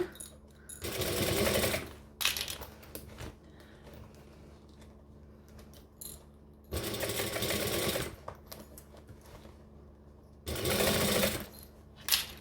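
A sewing machine stitches a bag panel with its lining nearby, three loud close bursts of rapid stitching separated by quieter pauses with handling noise.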